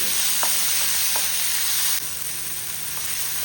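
Onions and tomatoes fry in a pan for a mackerel curry, producing a dense, loud, continuous sizzle with a couple of faint stirring taps, the hiss dropping slightly in level partway through.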